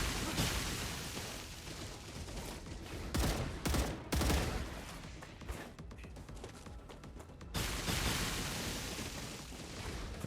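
Gunfire in the StarRupture video game, with repeated bursts of shots and heavier booming blasts spread over several seconds, fairly quiet overall, with no talk heard.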